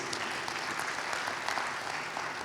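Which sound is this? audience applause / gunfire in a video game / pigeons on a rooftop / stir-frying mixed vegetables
audience applause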